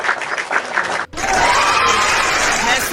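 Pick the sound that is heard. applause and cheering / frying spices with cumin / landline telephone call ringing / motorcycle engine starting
applause and cheering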